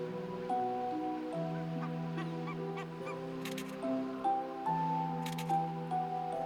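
Barnacle geese on Svalbard give a steady chorus of overlapping honks and calls from several birds, continuous and fairly close, with no talking.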